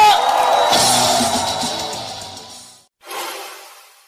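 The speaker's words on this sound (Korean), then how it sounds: "큰 박수로 환영해 주십시오." Crowd at a Korean political rally cheers and applauds as presidential candidate Moon Jae-in enters, a loud, dense roar that fades, breaks off briefly, then surges again.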